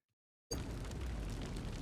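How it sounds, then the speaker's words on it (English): After a moment of silence, a sudden loud blast bursts out and its heavy rumble carries on, close and intense. "I heard gunfire."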